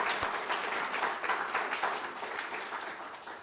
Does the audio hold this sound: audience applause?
yes